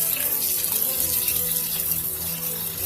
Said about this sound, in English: You wash it, you rinse the rice, rinse it good, and then you drain it.